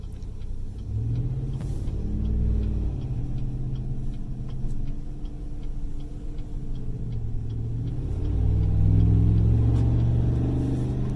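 Deep, droning exhaust from a 2020 Chevy Silverado Trail Boss with muffler and flapper valve removed, idling and cruising with a steady low rumble that swells louder near the end.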